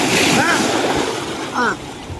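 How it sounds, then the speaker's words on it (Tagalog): Strong waves break on a beach after a typhoon, a loud continuous roar of surf and wind buffeting close to the microphone, with a person speaking over it. "Lakas ng alon na."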